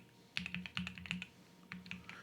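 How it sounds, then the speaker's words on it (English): Password entry on a computer keyboard produces faint, close key clicks in short irregular bursts with brief pauses between them and no voices. "we need to go ahead and type in our password here"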